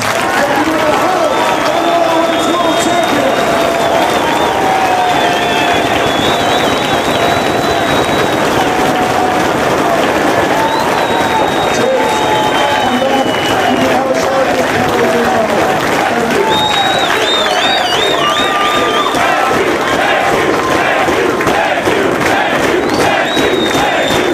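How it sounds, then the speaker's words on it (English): A packed wrestling crowd claps and cheers loudly and continuously for over twenty seconds, a dense, roaring mass of applause, shouts and whistles filling the arena. "So if everybody would, please give James Gibson a round of applause."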